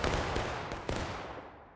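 A musket volley from an infantry line in the War of Rights game: a dense burst of overlapping shots at the start, a couple of later sharp cracks, and a long rolling echo fading out.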